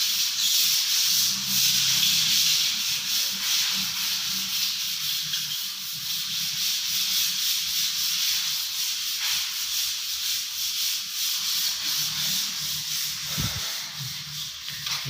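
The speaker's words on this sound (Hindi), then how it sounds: "मैं आपको दिखा देता हूँ जो रेगमाल वगैरह लगा रहे हैं।" Sandpaper rubs against a wall strip in a continuous, loud, close-up hiss with steady back-and-forth scraping, briefly interrupted near the end, with no speech.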